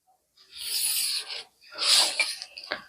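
Chalk or marker being drawn across blouse fabric for a 36-inch katori blouse, two close, dry rasping strokes with a short gap between them and a few lighter scratches at the end.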